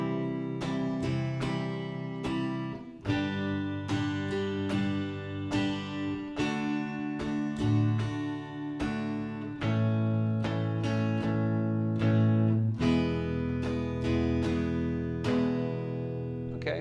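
An acoustic guitar strums chords in a steady, even rhythm of quick down-and-up strokes, shifting chords every few seconds, played alone and up close.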